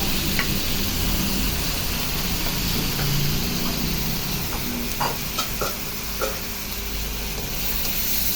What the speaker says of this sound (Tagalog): haluin lang natin para yung lasa ng pinagprituhan ng pork at mga ingredients na ating ginisa ay mag-mix na